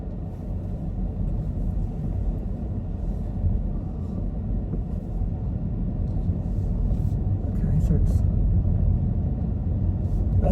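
A Mini Aceman drives along a quiet local road, its steady low road rumble and tyre roar building slightly toward the end, heard from inside the cabin with no talk.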